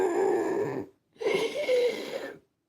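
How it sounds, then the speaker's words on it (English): Wheezy, rasping breaths from a person sleeping, two drawn-out strained breaths separated by a short silence, close-up and moderately loud with no talking. "listen to the wheezing"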